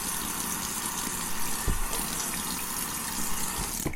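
Water runs steadily from a tap while shaving soap is being prepared, a continuous hissing flow that holds close and even throughout with a brief knock partway through.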